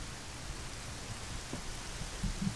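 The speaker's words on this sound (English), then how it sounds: "Did it just out of nowhere start raining?" Steady rain hisses in Majora's Mask, a broad even wash of falling water with a few faint low thumps near the end, no voices over it.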